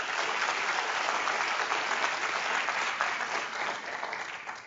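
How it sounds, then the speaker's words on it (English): Conference audience applauding at an elections event, dense continuous clapping from a large crowd that holds steady and begins to thin toward the end. "so please give them a round of applause"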